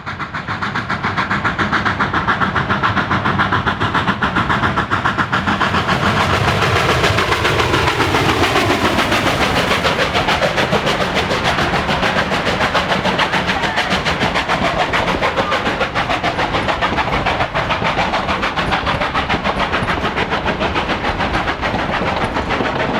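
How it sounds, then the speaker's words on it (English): Durango and Silverton coal-fired steam locomotive 481 labors up a grade toward Rockwood, a loud, continuous chuffing roar with rhythmic rail clatter, heard alone without talk. "as we witness the 481 pulling up the hill towards Rockwood"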